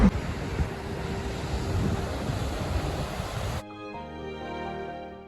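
Waves and wind at Yamba Main Beach, a steady rushing wash with microphone wind buffeting that stops abruptly and gives way to quieter, tonal background sound.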